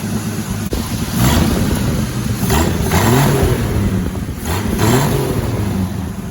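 A 1981 AMC Eagle Sundancer engine with a big cone air filter runs loud and close, holding a steady rumble with a few revs rising and falling throughout, and no talking.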